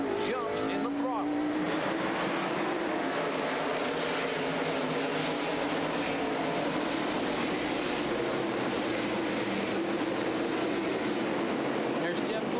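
NASCAR Busch Grand National race cars, including Monte Carlos, roar around Indianapolis Raceway Park in 1997, a dense continuous engine drone with pitch sweeping as they accelerate, under steady commentary.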